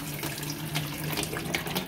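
Water runs steadily from a kitchen tap into a sink as a continuous, even splashing hiss, close and moderately loud, with no voices.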